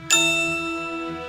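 A single bright metallic ding in a DoorDash radio advert, standing in for a phone notification, struck once sharply and ringing out with a slowly fading sustained tone.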